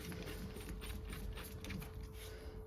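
A ratchet tightens a part during a rear brake job on a Ford Escape, giving a quick run of close, repeated mechanical clicks over a low hum.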